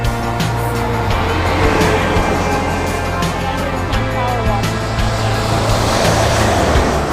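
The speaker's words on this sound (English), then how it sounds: "when I wait till the bus goes" A bus passes close by with a loud, continuous engine rumble and broad road roar that holds steady throughout, with no clear talk over it.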